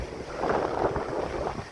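Gusty coastal wind at the beach in Bude, Cornwall, a constant loud roar that swells in the middle, with heavy buffeting of the microphone and surf churning underneath.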